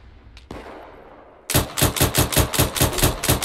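Loud, close automatic gunfire in the military video game ARMA 3, a rapid steady burst of shots after a quieter stretch with a single earlier report.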